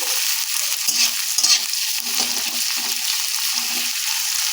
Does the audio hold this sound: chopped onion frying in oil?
yes